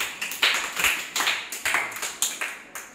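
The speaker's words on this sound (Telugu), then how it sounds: "Very good, claps." Schoolchildren in a classroom clap together during a matching activity, a run of sharp, uneven bursts that keep coming close together over a few seconds, with no talking.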